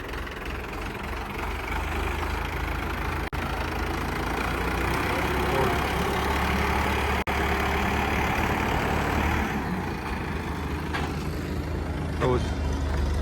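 A Standard 450 tractor with an Indo Farm engine idles in a steady, close, low diesel rumble that holds evenly throughout, with someone talking over it.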